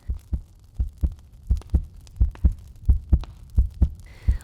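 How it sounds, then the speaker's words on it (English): A heartbeat sound effect set under a gothic reading of Poe's The Tell-Tale Heart, a steady low double thump repeating about every 0.75 seconds, deep and muffled, with no voice over it. "It was the beating of the old man's heart."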